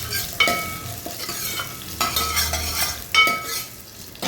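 Crushed garlic sizzling and frying in hot oil for a South Indian sambar tempering, a loud close crackle with a spoon stirring and scraping the pan at intervals.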